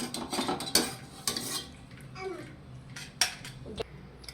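Boiled mangoes are lifted out of a cooking pot with a utensil, making soft scraping and clinking of metal on the pot, splashes and knocks, close by with faint background voices.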